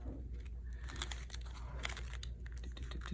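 Duct tape strips are folded and handled up close, giving quiet crinkling, rustling and small sticky crackles in a quick irregular run with no talking.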